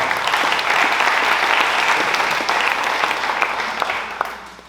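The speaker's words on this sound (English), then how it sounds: "can we clap for all of them just really quick?" An audience at a business conference panel claps loudly and steadily for several seconds, the applause fading slightly toward the end.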